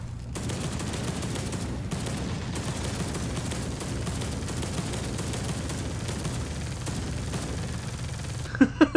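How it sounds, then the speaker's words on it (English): Heavy, continuous automatic fire from an assault cannon in Space Hulk: Deathwing rattles on for several seconds as a dense, unbroken roar, ending with a few sharp bursts. "That assault cannon is so useless."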